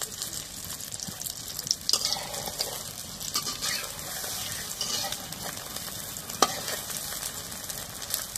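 Egg frying in hot oil in a pan, a steady close sizzle with occasional louder pops and spatters running throughout, no voices.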